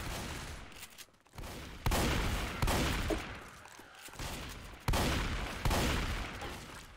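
Repeated bursts of gunfire during a video game match, loud sharp volleys recurring every second or so with brief gaps, sounding like sustained close-range shooting.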